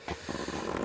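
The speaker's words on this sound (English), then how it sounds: "I apologise for her purring throughout the video if she keeps doing that" A cat purrs close to the microphone in a low, continuous rumbling flutter for just under a second, steady and fairly loud with no talk over it.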